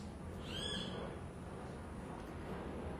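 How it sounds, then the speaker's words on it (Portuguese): An owl hoots once, fairly faint and distant, over a steady bed of quiet outdoor ambience, with no voices present. "eu estou ouvindo aqui os passarinhos"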